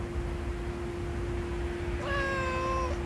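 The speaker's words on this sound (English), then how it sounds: "Oh, look at that kitty." A cat gives one drawn-out meow near the end, close and clear, over a steady outdoor hum and wind noise.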